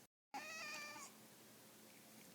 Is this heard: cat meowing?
yes